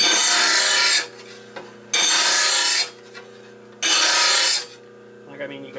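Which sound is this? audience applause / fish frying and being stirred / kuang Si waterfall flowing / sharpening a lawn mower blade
sharpening a lawn mower blade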